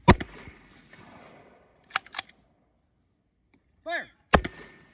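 A homemade can mortar going off outdoors: several sharp, close bangs spread across the moment, with quiet gaps between and a short whistling whoosh just before the last shot.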